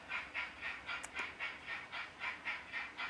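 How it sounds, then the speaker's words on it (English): A model freight train runs past on a layout, giving a faint, steady rhythmic clatter of wheels over rail joints, with regular repeating beats and no talk. "got a nice freight train going past there"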